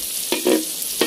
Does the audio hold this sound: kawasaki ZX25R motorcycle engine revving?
no